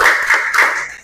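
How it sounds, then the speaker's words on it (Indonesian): A classroom group claps out a rhythmic salute, sharp close hand claps in a quick patterned beat, loud and alone. "Tepuk tangan untuk kalian semua."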